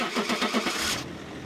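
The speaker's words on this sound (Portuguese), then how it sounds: "este som se trata de um carro ligando" A car engine cranking with rhythmic starter pulses for about a second before catching, loud and close, with no talk.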